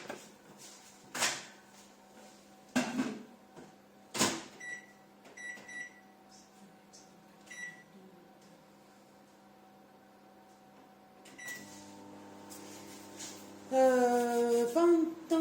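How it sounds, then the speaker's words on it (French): Microwave oven running at 600 watts, heating garlic, onion and olive oil for lasagne: a steady low hum under several door and clatter knocks, with a louder burst near the end. "je vais mettre ça à cuire pendant 2 minutes à 600 watts. Donc bien sûr au micro-ondes"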